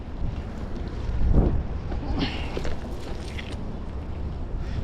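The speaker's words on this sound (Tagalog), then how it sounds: "medyo malakas ang hangin." Strong wind buffets the microphone outdoors near a muddy pool, a steady low roar with a gusty surge partway through and a few faint clattering sounds on top.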